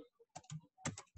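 Quick bursts of computer keyboard typing, several short key clusters in irregular rhythm, close and fairly quiet, with no voices.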